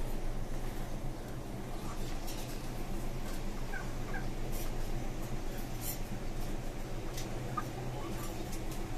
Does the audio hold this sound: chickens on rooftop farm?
yes